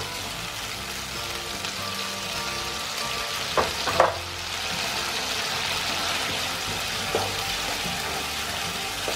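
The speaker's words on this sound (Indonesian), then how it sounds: "Ini kita tumis hingga bumbunya tanak." Spice paste for Medan-style sayur lontong sautés in a pan, giving a steady, moderate sizzle with a few brief clinks from stirring partway through and a faint low hum behind it.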